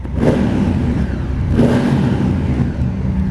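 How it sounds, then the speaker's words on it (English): A Honda CRF1000 Africa Twin DCT motorcycle exhaust revs loudly twice while idling in neutral, each throttle blip rising sharply and settling back to a rumbling idle, close and with no talk. "hopefully you can hear the exhaust. Chuck that into neutral"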